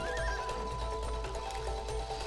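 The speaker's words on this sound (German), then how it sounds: "Dann Pferd?" A horse neighs and whinnies in the video game It Takes Two over a steady background hum and low rumble, sounding synthetic and game-like, with no talking.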